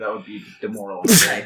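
A person sneezes once, sharply and close, right after someone finishes a spoken sentence during a tabletop role-playing game session.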